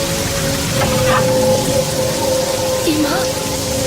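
Sudden heavy rain in a cartoon: a dense, loud, continuous hiss of downpour with a sustained tonal hum and a falling whoop-like effect near the end, and a voice talking briefly over it.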